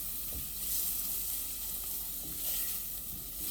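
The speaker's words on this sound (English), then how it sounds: "I'm sauteing the onions with thyme and black pepper." Onions sauté with thyme and black pepper in a pan for Nigerian meat pie filling, giving a steady, close hissing sizzle with faint stirring scrapes underneath.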